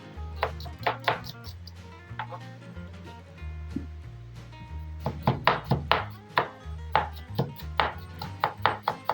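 A knife slices onion thinly on a cutting board, with sparse taps at first while a person talks, then a rapid, steady run of crisp chops toward the end.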